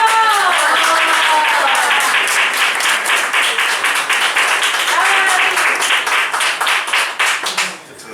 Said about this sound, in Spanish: Un fuerte aplauso para nuestro amigo David Gerardo Canales Martínez.